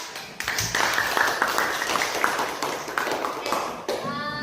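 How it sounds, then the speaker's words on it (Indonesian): Classroom students clap for a group after a presentation, a dense patter of many hands that stays steady and close throughout, with children's voices mixed into the clapping. "Nah, tepuk tangan dulu untuk kelompok."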